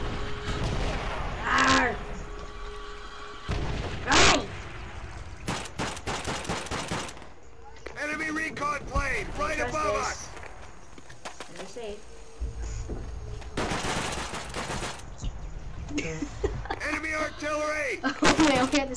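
Video game gunfire crackles in sharp bursts and broadband rattles, several loud volleys spread across the stretch, with someone talking between and over the shots.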